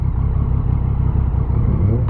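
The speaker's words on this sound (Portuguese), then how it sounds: "Não, escutei um Uno." Fiat Uno car passing on a street in Curitiba, a steady low engine drone with rhythmic pulsing, fairly close and loud, with no voices.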